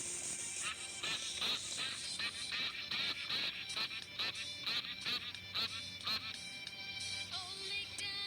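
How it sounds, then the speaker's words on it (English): Ducklings quacking in a rapid, repeated series of bright, nasal calls, fairly close and steady throughout, with faint background noise. "there were some ducklings, E-I-E-I-O. With a quack quack here and a quack quack there"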